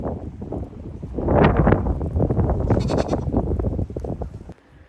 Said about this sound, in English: The goats jumped across to the island, and I think they're stuck now.